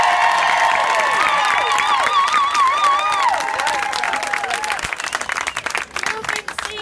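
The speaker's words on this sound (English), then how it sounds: "give them all a big round of applause" Loud audience applause and cheering for competitors at a kilt contest, a dense crowd roar with whistles and shouts early on, settling into sustained clapping.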